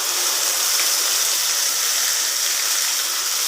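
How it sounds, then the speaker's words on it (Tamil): Water poured into a pan of channa masala cooking on the stove, a steady close rushing pour that holds unbroken and fairly loud throughout, with no talking. "இப்போ இதில் வந்து நம்ம வந்து தண்ணி ஆட் பண்ணி ஊற்றிக்கலாம்"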